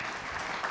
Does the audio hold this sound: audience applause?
yes